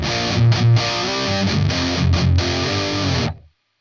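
Heavily distorted electric guitar chugging through a blended Alloy cabinet impulse response, thick and loud with palm-muted chords and brief gaps, ringing out before cutting to silence; no voices.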